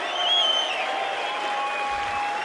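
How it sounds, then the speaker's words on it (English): Comedy show audience cheering and applauding, a steady crowd wash of clapping and voices with faint whistle-like tones over it. "Give him a bigger cheer"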